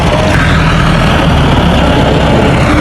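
Tractor engine running under load on a village road, a loud steady low-frequency rumble with dense broadband noise, close and continuous throughout.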